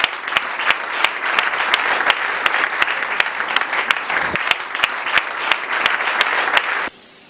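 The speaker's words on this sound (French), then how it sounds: "Acclamez le Seigneur. Let's clap the Lord." A church congregation claps in unison, the sharp, even claps continuing for about seven seconds under a broad crowd wash before the applause cuts off abruptly.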